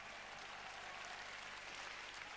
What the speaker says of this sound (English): When you hear an audience clapping